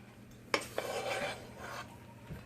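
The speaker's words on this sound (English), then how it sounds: "I'm going to put half of my celery and onions in here." Chopped celery and onions are tipped into a dish for Thanksgiving dressing, giving a sharp clink against the dish followed by about a second of soft scraping and rustling, close and quiet.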